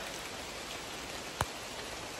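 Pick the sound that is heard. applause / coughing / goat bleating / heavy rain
heavy rain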